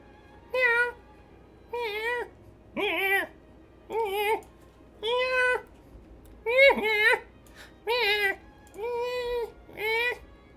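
A cat meows nine times in a steady series, each call drawn out and clearly voiced, close and loud, with short quiet gaps between the meows and no talking over them.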